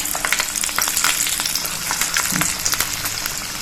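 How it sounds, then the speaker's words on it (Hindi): Jackfruit koftas fry in hot oil in a kadhai, giving a loud, dense, continuous sizzle and crackle from close by, with faint stirring scrapes underneath. "ये कढ़ाई हमारी गर्म हो गई है, तेल गर्म है। इसमें हम एक एक करके इसको डालेंगे।"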